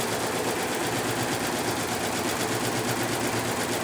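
An embroidery machine stitching steadily, a continuous close, bright mechanical chatter with a fast even rhythm and no pauses.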